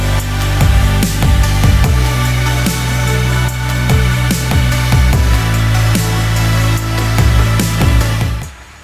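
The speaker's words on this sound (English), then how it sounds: "Sorry about the noise, because the tractor cleaning the beach is going along, so that's why all the noise is there." Steady loud engine drone of a beach-cleaning tractor with a low mechanical rumble and repeated clanking thumps, close by and continuous, fading near the end.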